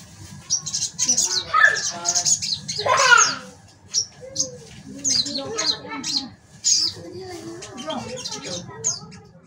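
A young sogon trotol bird sings close by in quick bursts of shrill chirps and squeaky twitters, broken by short pauses, over a faint low hum.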